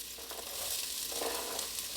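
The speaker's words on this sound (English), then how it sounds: "I always love that sizzle." Steady crackling sizzle of onions frying in hot olive oil, close and continuous, with faint scraping of a spoon stirring.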